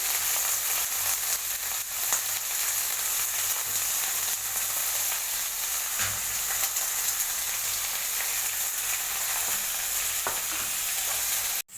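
Chilies frying in a pan, a steady loud sizzle with scraping stirring strokes throughout, no voices.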